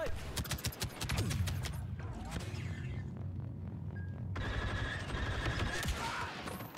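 Rapid blaster fire crackles continuously in the Star Wars Battlefront 2 video game, dense volleys of shots layered over a busy battle din, with a German-speaking player talking over it.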